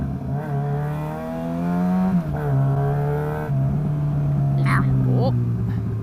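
A motorcycle engine drones steadily while riding, its exhaust note holding a low, even pitch with brief shifts in revs, close and loud beneath two riders talking over it.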